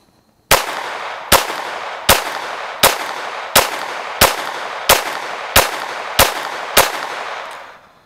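A pistol fitted with an Advantage Arms .22 conversion kit fires CCI AR Tactical ammunition: ten sharp, loud shots at a steady, evenly spaced pace at an outdoor range, with no talk.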